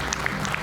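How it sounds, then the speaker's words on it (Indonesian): Studio audience applause on a television talk show, a short burst of clapping. "Kita berikan tepuk tangan Bung Fredrik Yunadi."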